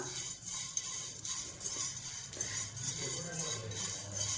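Sorghum grains being stirred in a hot pan with a cotton cloth: soft, irregular clinks and light rattling scrapes, fairly faint and close, with no voices.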